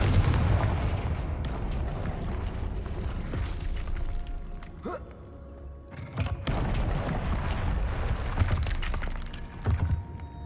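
Confringo blasting spells in Hogwarts Legacy combat: heavy booms and cracking blasts hit repeatedly over a dense, continuous wash of battle noise, with a brief lull midway before the explosions pick up again.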